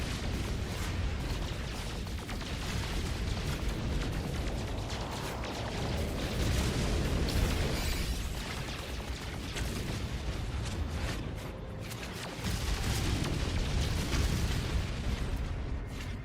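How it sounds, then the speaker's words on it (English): In the space game No Man's Sky, a nuke set off in an asteroid field brings a long, dense roar of booms and crackling bursts that swells and fades in waves across the whole stretch without any talk. "you can nuke an asteroid field and just gather everything at once"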